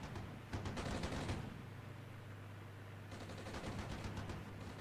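Gunfire strikes a building in the video game Armored Brigade, heard as distant, faint bursts of rapid rattling shots in two clusters with a steady low hum between them.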